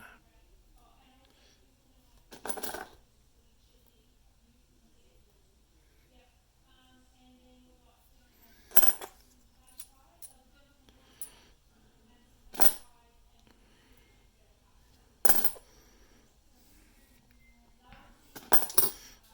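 Australian 20 cent coins clink and clatter as they are shuffled and moved aside, several brief sharp metallic bursts separated by quiet pauses.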